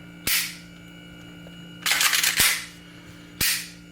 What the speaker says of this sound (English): go ahead and dry fire it